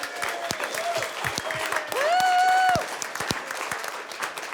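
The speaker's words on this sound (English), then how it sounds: "round of applause for Kevin Haig too" Steady applause from a crowd fills the clip, with a whistle-like tone rising and holding briefly in the middle before the clapping carries on.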